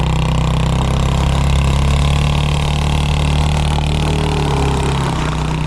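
A worn mini quad engine burning a lot of oil idles steadily and loudly up close, its low, uneven throb running unbroken throughout with no talking.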